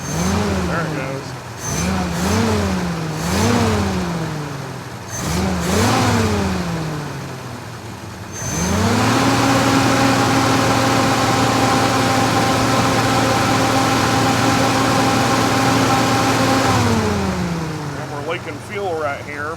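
A Jeep CJ5 engine with air in the fuel system stalls out in repeated short revs that rise and fall as it refuses throttle, then catches and holds a steady loud rev for several seconds before dropping back, with someone talking over it.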